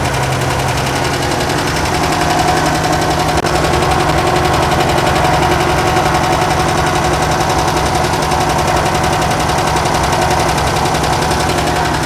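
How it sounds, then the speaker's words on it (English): Air-cooled engine of a 1966 VW Fastback running, a loud, steady rapid ticking chatter held close for the whole stretch with no talk. "Yeah, engine's running."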